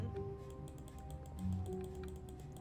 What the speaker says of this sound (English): Why is it making a typing sound when I'm pressing the chair, but not when I'm pressing the keyboard?